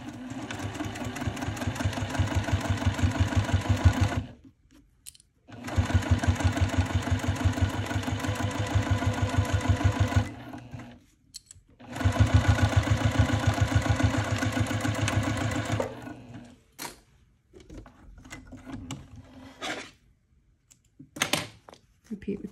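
A sewing machine top stitching a clutch wallet runs in three long, steady bursts of rapid, even motor whirring, with short pauses between them. A few quieter stitches and handling sounds follow near the end.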